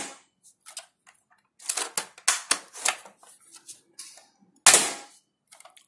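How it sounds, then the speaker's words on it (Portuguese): Shots from an SVD Dragunov spring airsoft rifle fired into cardboard, heard as a few sharp, dry snaps and clicks with handling noise between them, the loudest crack near the end. "vou fazer um disparo no papelão ali, para que vocês vejam a potência desse rifle."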